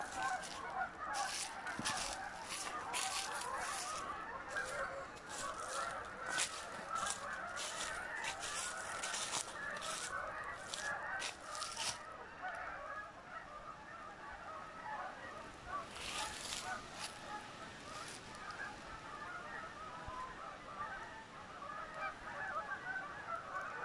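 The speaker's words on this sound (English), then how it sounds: "there's probably a few thousand geese on the lake right now" A large flock of geese on a lake honks repeatedly from a distance, with bursts of overlapping calls coming in waves over an open outdoor ambience.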